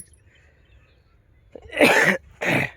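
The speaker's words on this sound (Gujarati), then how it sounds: "મારે થોડીક ખાંસી પણ અત્યારમાં આવે છે" Two loud, harsh coughs in quick succession, close to the listener, following a moment of near silence.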